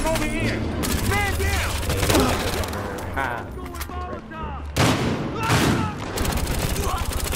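Gunfire and explosive booms fill a Battlefield Hardline match as scattered shots and heavier blasts, loud and close, while game voices shout and talk over much of the action.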